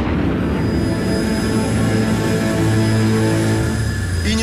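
A MiG-31 jet roars loudly and steadily nearby, a sustained engine drone with a high whine riding over a rumbling low end, swelling slightly near the finish.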